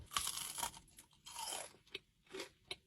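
A crunchy churro served with ice cream is bitten and chewed up close, with sharp crackling crunches in bursts and quieter chewing between them, no talking.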